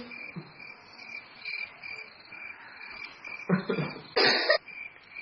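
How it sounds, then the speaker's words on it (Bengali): An unwell man coughs a few times, sharp bursts near the end, over a steady chirping of crickets in the background. "আরে আন্টি কাশছে কে?"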